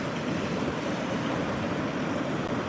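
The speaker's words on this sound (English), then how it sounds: "there's some significant wave action and run-up starting to come up" Heavy storm surf from Hurricane Erin pounds steadily at Bethany Beach with waves running up the sand, a continuous loud broadband roar with some wind on the microphone.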